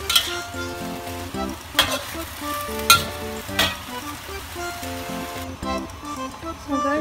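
Water spinach (kangkong) stir-frying with preserved bean curd, a loud steady sizzle broken by repeated sharp metallic scrapes and clanks of a spatula against the wok, close up with no talking.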